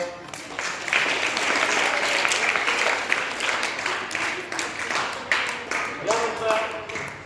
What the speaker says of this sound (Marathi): होमी बाबा गटासाठी टाळ्या वाजूया